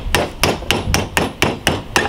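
A hammer strikes soft copper sheet to flatten it, seven sharp metallic blows in a steady rhythm about a third of a second apart, loud and close with no talking.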